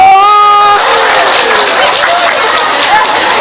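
Audience applause at a Ramadan religious study gathering in Magelang, Central Java, a dense wash of clapping that rises right after a voice and holds steadily to the end.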